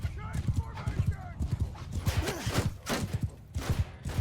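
Cavalry horses gallop in a Mount & Blade 2 Bannerlord battle, producing a dense rhythmic drumming of hooves with occasional whinnies and battle noise, close and loud throughout.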